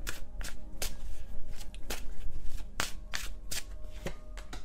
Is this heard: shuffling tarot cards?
yes